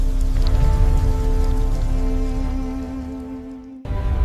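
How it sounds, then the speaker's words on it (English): Steady heavy rain patters on a surface with a constant hiss and faint tonal hum, cutting out briefly near the end before resuming. "Rain fell without mercy, but the heat still ruled."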